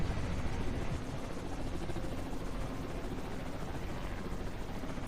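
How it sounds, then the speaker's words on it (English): A Falcon helicopter from Halo 3 drones with a steady, rough rotor and engine roar, constant and fairly loud throughout with no voices. "Oh my god, the sound of the Falcon is so cursed."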